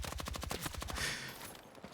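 Rapid, loud bursts of M203 grenade launcher and automatic gunfire in the Battlefield 6 video game, dense repeated shots for about a second before fading into a rumbling explosion-like wash.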